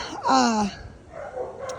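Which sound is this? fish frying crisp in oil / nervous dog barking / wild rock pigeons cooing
nervous dog barking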